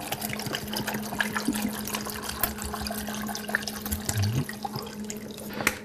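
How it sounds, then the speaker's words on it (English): Apple juice poured from a container over apples in a pot, a soft continuous trickling and splashing of liquid at close range, steady for several seconds with a faint background hum. "Now I'm going to pour some apple juice in,"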